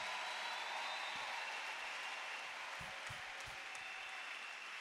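A church congregation applauds, a steady wash of clapping and cheering heard faintly at a distance, sustained throughout.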